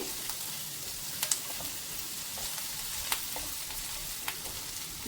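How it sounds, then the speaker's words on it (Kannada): Three green chillies fry in a pan, giving a steady, fairly quiet sizzle with faint crackles and a few small sharp pops, heard alone without talk. "ಇದಕ್ಕೆ ಈಗ ಒಂದು 3 ಹಸಿರು ಮೆಣಸಿನಕಾಯಿನ ಹಾಕಿ ಹುರಿತಾ ಇದ್ದೀನಿ"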